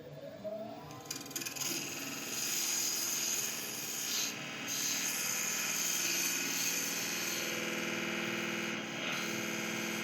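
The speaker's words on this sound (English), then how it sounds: "then I'll sand and polish the inside" A boxwood box interior is sanded on a spinning lathe, giving a steady, continuous rubbing rasp over the motor's hum, close and even throughout with no voices.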